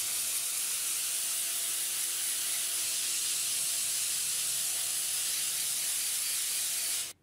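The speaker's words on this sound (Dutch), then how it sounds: "Stoom van buiten naar binnen om de vlekken te verwijderen." A steam cleaner hisses steadily and loudly as it works on mascara stains in textile over a suction table, a continuous close spray that cuts off abruptly at the end.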